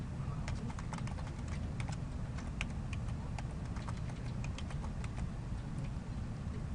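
Rapid keystrokes on a computer keyboard as a form is filled in online, a steady run of close, crisp clicks over a low background hum.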